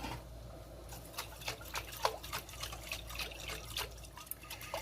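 Water sloshes and splashes inside a glass pasta sauce jar as it is shaken, producing quiet, irregular liquid bursts at close range with no voices.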